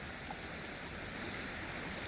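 A Washington river flows in a steady, faint broadband rush of moving water, continuous and even with no voices.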